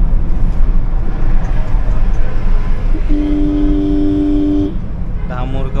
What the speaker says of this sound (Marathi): हॉर्न द्यावं लागणार.